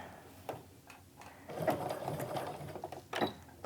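Sewing machine stitching a canvas and cork wristlet, quiet bursts of mechanical whirring and needle clatter that start and stop in short runs.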